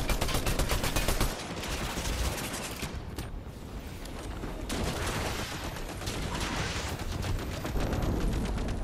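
Dense, rapid Fortnite gunfire rattles in long automatic bursts, loud and close, with a brief lull before the shooting picks back up and continues steadily.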